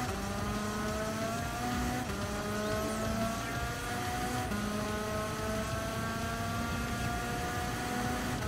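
A GT4 race car in the video game Gran Turismo 7 drones steadily at high speed, its engine tone holding loud and constant with slight pitch shifts through gears, no talking over it.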